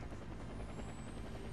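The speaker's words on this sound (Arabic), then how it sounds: "خلاص هذه الطيارة جت" A helicopter arrives in Warface, its rotor giving a steady, close, thudding whir that holds level for the whole short stretch.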